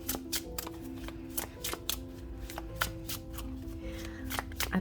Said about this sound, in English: I like to pre-shuffle some cards because that way it kind of gives the pile's personality